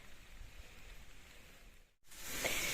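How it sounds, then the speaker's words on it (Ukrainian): Rain falls steadily outdoors at a village home, a soft continuous patter throughout that grows brighter and heavier after a brief gap near the end. "У нас знову дощ."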